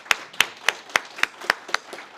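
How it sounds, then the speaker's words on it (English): A single pair of hands claps eight times at a steady, even pace, close and crisp, with no voices. "So y'all can give him a round of applause for that."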